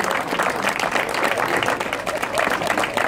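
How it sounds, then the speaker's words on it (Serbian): Steady applause from a crowd at a celebrity tennis tournament in Belgrade, dense clapping sustained at an even level throughout, close and loud. "velike aplauz"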